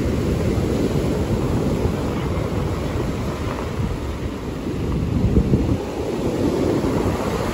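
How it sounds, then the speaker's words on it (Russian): Stormy sea at Volkonka on a rough day, with surf churning continuously and strong wind buffeting the microphone, a dense steady roar that swells slightly midway. "Море сегодня очень волнуется, очень штормит."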